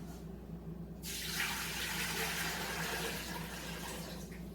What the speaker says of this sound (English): So you pour the water in, cover it, and turn your stove on high.